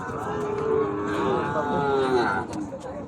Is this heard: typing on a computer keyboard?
no